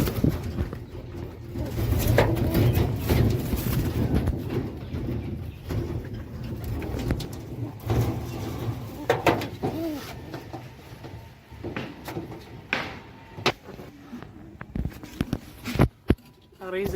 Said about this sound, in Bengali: আর যে এইখানে দুইটা ক্রস কবুতর, নাইরা আর গিরিবাজের ক্রস।